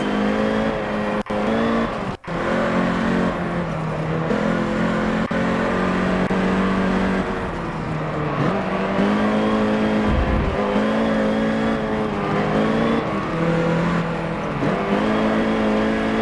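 A neighbouring car's engine rumbles loudly right alongside, a sustained throaty drone that rises and dips in pitch over sixteen seconds with a couple of sharp clicks, no talking.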